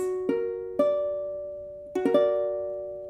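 An augmented chord sounded twice, its notes entering in a quick staggered run and then sustaining as they slowly fade, clean and close with no talking.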